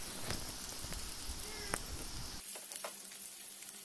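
Paneer cubes go into melted butter and fry with a steady, soft, crackling sizzle that stays fairly quiet, plus a few light clicks from a utensil.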